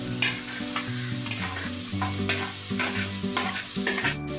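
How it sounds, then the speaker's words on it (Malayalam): Chopped green chili, ginger and garlic sauté in oil for Thalassery chicken dum biryani: a constant close sizzle with rhythmic spoon scrapes and stirring strokes against the pan. "എന്നിട്ട് നന്നായിട്ട് വഴറ്റി കൊടുക്കാം."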